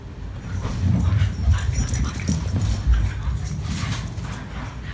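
Four dogs, two poodles, a pug and a French bulldog, whimper and yip close by in an indoor setting, with overlapping whines and short high yelps throughout.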